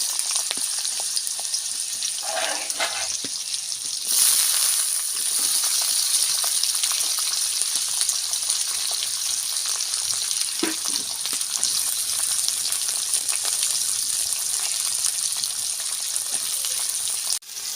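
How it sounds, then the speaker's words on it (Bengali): Potatoes dropped into hot mustard oil in a pan, sizzling and frying steadily at close range, with a louder burst of spattering as they hit the oil and occasional stirring clinks. "গরম হয়ে গেছে, এবার আমি আলুগুলো দিই।"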